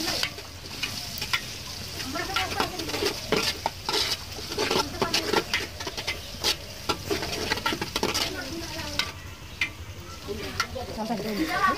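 Chopped garlic and ginger frying in a pan for khichuri prep, a steady close sizzle with frequent spoon scrapes and stirring knocks, a voice talking intermittently over it and birds faintly outside.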